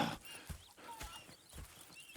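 Horses in the video game Red Dead Redemption 2 walk with a soft, regular clip-clop of hooves, quiet and fairly close, with no voices.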